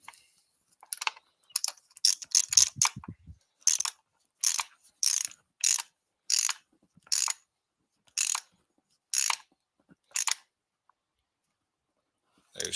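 Ratchet wrench tightening spark plugs on a boat engine during end-of-season maintenance: bursts of close, crisp clicking come in quick runs, then slow evenly spaced strokes with silent gaps between them.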